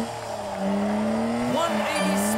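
A drift car sliding sideways at a grassroots drifting event, engine droning steadily with a rising rev sweep midway and tires squealing loudly, close and continuous.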